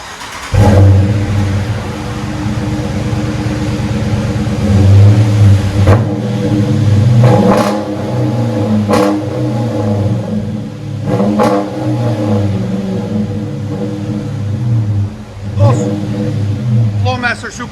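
Dodge Charger R/T with a 5.7L HEMI V8 and Flowmaster Super Tins mufflers revving repeatedly, deep loud exhaust rumble rising and falling in several sharp blips close by, with no talking.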